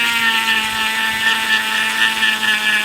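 A Dremel rotary tool trims epoxy on the wooden handguard of an 1896 Krag rifle, giving a steady, loud, high-pitched motor whine that holds without a break and has no talk over it.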